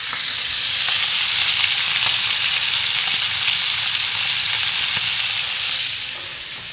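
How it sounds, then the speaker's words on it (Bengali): A pan of kachki fish fries hard, keeping up a dense, even sizzle close by. A few light clicks of stirring cut through it, and the sound eases off near the end. "এই যে মাছটি ভাজিয়ে নিচ্ছি"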